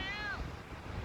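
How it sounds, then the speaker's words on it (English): Strong wind buffets the microphone on a beach, a constant low rumble filling the whole moment, with a brief whistle-like tone fading early on. "I do apologise if it's a bit windy"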